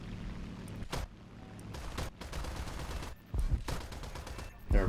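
A fighter plane's machine guns rattle in short bursts during an aerial dogfight in War Thunder, loud clustered volleys separated by brief gaps over steady engine drone.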